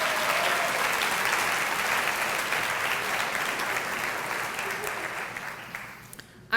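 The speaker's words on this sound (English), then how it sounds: "can we please give Emily and the Clarkston Chamber a huge round of applause for this incredible event?" Sustained audience applause fills the room at a sold-out women's business event, steady and dense before thinning and stopping near the end; a faint voice or two is heard under the clapping.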